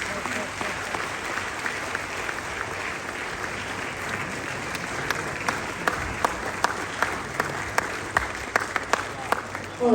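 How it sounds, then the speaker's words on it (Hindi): An audience at an Indian national health-scheme event gives steady applause to a five-year-old award recipient, continuous clapping with some sharper individual claps standing out near the end. "आयुष्मान भारत की पहली लाभार्थी 5 वर्षीय करिश्मा के लिए एक बार जोरदार तालियां हो जाए।"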